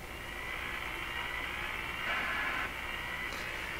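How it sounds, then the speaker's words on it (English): A radio fed by a BK 3030 sweep generator through its antenna hisses with steady static and a sustained whining tone, brightening briefly midway, with no one speaking. "So that rising tone could be because there is additional signals in the radio coming in through the antenna."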